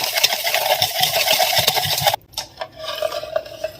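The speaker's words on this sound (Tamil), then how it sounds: "சீனியும் எண்ணெயும் நல்லா மிக்ஸ் பண்ணிக்கலாம்." Sugar and oil being stirred together in a bowl, a steady scraping swirl for about two seconds, then a brief pause and lighter intermittent stirring.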